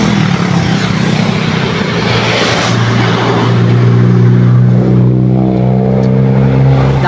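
Dense highway traffic on the Maharlika Highway national road in Quezon Province, stop-and-go vehicles passing with a steady loud engine rumble and drone throughout, no talking.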